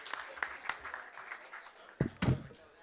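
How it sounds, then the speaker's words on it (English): A small group claps at a council meeting, faint and distant, with light scattered claps swelling briefly near the end. "Belated round of applause."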